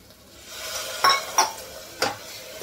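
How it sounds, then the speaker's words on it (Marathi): Water being added to a thick gram flour batter in a home kitchen, heard as a few distinct utensil clinks and stirring knocks against the bowl, spaced apart and fairly close, with no talking. "थोडंसं पाणी घालूया."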